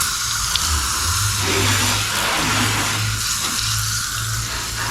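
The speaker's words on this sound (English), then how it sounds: "As I wash everything off, rinse it off." Water sprayed to rinse a car tire clean after a tire dressing test, a steady, loud hiss of spraying and splashing water that runs unbroken and close by.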